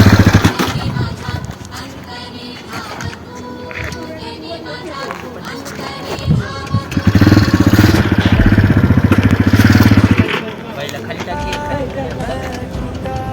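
A motorcycle engine revs up from a lower, uneven idle into a loud, sustained roar for several seconds before dropping back, with people talking around it.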